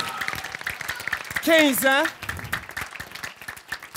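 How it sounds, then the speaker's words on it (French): Audience applause at an improv show's fifteenth-anniversary Bol d'or event, a loose patter of clapping under a host's voice, with an excited shout rising briefly in the middle. "On peut donner une bonne main d'applaudissement au bol d'or."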